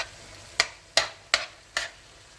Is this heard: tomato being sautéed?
yes